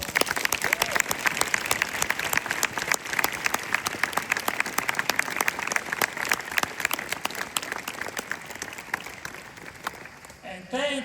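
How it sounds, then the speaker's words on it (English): A ceremony audience at a global governance program's final ceremony breaks into dense, sustained applause lasting over ten seconds, loud and continuous, with a few voices mixed in as it begins to thin at the end. "Please give yourself now a big round of applause"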